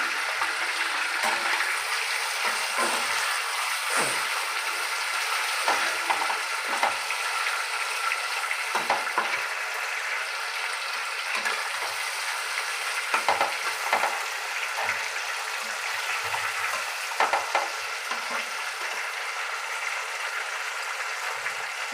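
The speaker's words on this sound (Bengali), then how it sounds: "চিকেনগুলো একটু তেলের মধ্যে নাড়াচাড়া করলে, আর পেঁয়াজের সাথে নুন যেহেতু পড়েছে, চিকেনগুলো একটু ভালো টেস্টটা খোলে।" Chicken pieces sizzle in hot oil with onions while being stirred, a continuous close frying hiss broken by repeated spoon scrapes and clinks against the pan, with no talking.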